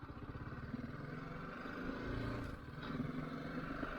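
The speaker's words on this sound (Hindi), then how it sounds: "What the bike sounds like." A BMW G 310 GS motorcycle rides off, its single-cylinder engine giving a steady, close, throbbing drone with a slight rise in revs midway as it pulls away linearly.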